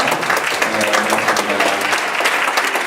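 Church congregation applauding in praise to God, a dense, steady wash of many hands clapping throughout, fairly loud and close, with faint voices mixed in.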